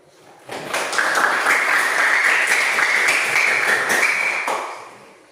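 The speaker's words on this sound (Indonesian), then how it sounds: "Tepuk tangan." A classroom audience claps together for several seconds, a dense patter of many hands that swells quickly, holds steady and fades out at the end.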